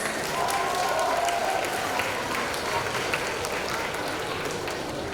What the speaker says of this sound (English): Give him a big round of applause, you guys.